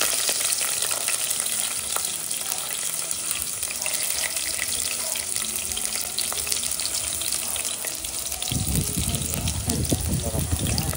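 Green chili frying and being stirred in a pan, a steady close sizzle with scraping stir strokes throughout and a denser burst of crackle near the end.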